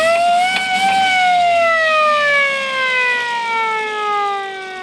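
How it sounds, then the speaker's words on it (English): Mechanical wind-down siren mounted on a vintage military vehicle at an outdoor car cruise, a loud, close, falling wail with rich harmonics that slowly drops in pitch and fades over several seconds. "And it's got the siren here."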